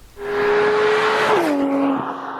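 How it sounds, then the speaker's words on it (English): Porsche 991.2 GT3 with a rear-mounted 4-litre flat-six and 7-speed PDK on a race track, a loud sustained engine note holding steady then dropping in pitch as it shifts or passes, with no talk. "Rear engine, 4-litre flat 6, 500 Teutonic Neddies, 7-speed PDK, all-wheel steering and rear-wheel drive."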